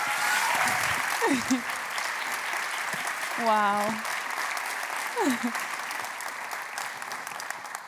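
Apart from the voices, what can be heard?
audience applause welcoming a speaker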